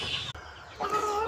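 Two hens and a rooster cluck briefly at close range, a short burst of throaty calls with a sharp break, then a higher, drawn-out cluck.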